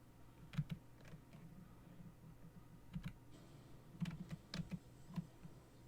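Keys clatter on a computer keyboard as a network command is entered, a quiet run of close, irregular clicks with short pauses between clusters of keystrokes.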